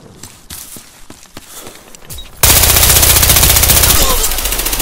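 Battlefield Hardline gunfire: a few scattered shots and footsteps, then a sudden, loud, sustained burst of rapid automatic fire that continues to the end.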